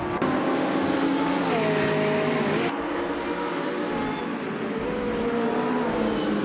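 A 2020 Chevrolet Corvette C8 race car launching off the line at the start of a video game race, with a steady, loud engine drone and shifting pitch over several seconds.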